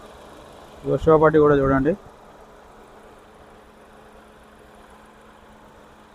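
A 2022 Maruti Dzire engine idles quietly with a steady, low, even hum, briefly overlaid near the start by someone speaking.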